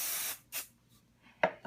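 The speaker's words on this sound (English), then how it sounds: "now what we're going to do is spray again" Short hissing bursts of an aerosol spray can, two quick sprays followed by a faint pause and a small click.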